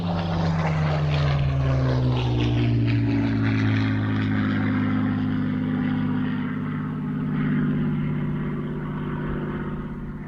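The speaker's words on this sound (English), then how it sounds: "Final pass, saluting the missing man from Spitfire" Spitfire MH434 roars past on a final low solo pass at an air show, its loud piston engine droning steadily close by with a sweeping pitch shift as it goes overhead and then slowly fades.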